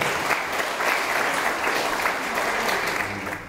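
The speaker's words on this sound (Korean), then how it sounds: "뜨거운 박수로 맞아주십니다" An audience at a political academy gives warm applause to welcome Busan mayor Hur Nam-sik for a special lecture, a thick, even wash of clapping from a large crowd that holds steady before easing off.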